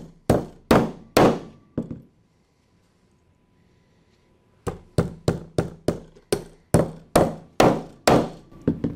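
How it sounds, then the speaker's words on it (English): Flexco R2 rivets are driven into a belt fastener plate with an applicator tool in a series of loud, sharp hammer blows. Three strikes come first, then a pause, then a steady run of about ten more. "And then install the remaining rivets"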